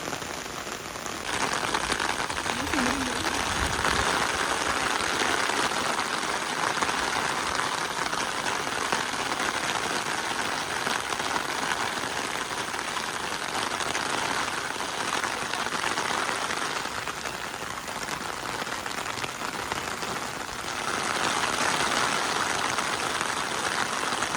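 A loud, continuous downpour of heavy village rain in May drums steadily on surfaces, keeping up a thick, even roar that swells and eases slightly over its length, with no talking.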